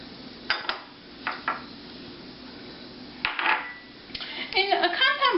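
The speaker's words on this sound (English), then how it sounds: "We have butter, pepper, salt, and a little bit of garlic powder. And we're just going to mix them together." Utensil knocking and scraping in a bowl while mixing butter, pepper, salt and garlic powder by hand, a few isolated taps first, then a denser burst of clinks and scrapes toward the end, close and moderately loud.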